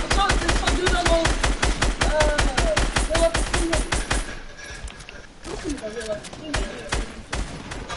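Rapid automatic gunfire in a shooter video game, dense bursts of fast shots for several seconds, then sparser shooting with voices talking over it.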